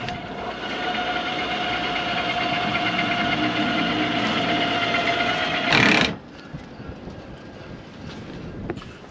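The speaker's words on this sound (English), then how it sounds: "So they're twin 502 Mercs, carbureted, naturally aspirated, nothing crazy." Twin carbureted Mercury 502 boat engines run on a Fountain powerboat, a loud, steady droning rumble that cuts off abruptly near the end, leaving quiet.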